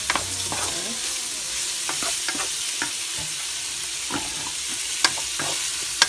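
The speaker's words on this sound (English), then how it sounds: "Now I'm going to keep stirring this for about another minute." Vegetables for lo mein fry in a pan with a continuous soft sizzle while a utensil stirs them, producing scattered scrapes and a few sharp clicks against the pan, close and alone without voices.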